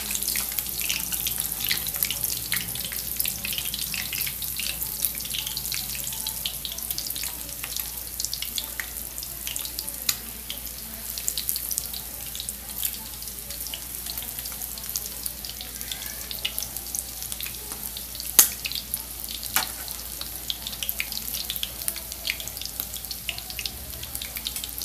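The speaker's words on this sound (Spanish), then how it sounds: "Las vamos a voltear. Con cuidado, no te vaya a saltar el aceite." Stuffed chicken breasts frying in hot oil give a steady, dense crackling sizzle that holds evenly throughout, with occasional sharper pops and no talking.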